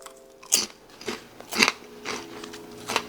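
Loud, crisp crunching bites of homemade pork rinds repeat close to the mic, five or six crackly chews spaced about half a second apart with no talking.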